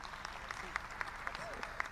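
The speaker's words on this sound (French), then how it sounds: "Donc moi, vous pouvez l'applaudir." Faint, sparse applause from a small audience at a formal presentation, scattered distinct claps at a fairly even pace, heard from a distance and quietly.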